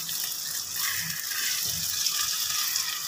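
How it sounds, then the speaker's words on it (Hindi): A little water is poured into a pan of potatoes cooking with garlic and cumin, making a brief, soft, steady splashing trickle close by, with no talk. "अब हम इसमें थोड़ा सा पानी ऐड करेंगे।"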